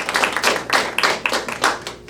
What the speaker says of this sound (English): Good round of applause for my young friend